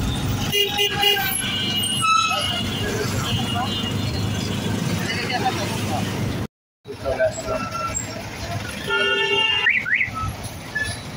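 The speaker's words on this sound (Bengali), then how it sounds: "দেখেন জ্যাম।" Vehicles stuck in a traffic jam on a village road in Bangladesh honk their horns repeatedly against a steady engine rumble. The toots are loud and close, and voices talk underneath.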